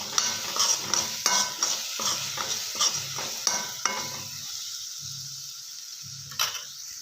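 Salt being stirred into spinach palya in a pan, a series of rhythmic scraping strokes of a spoon against the metal with a light sizzle underneath, close by, easing into quieter scattered scrapes toward the end.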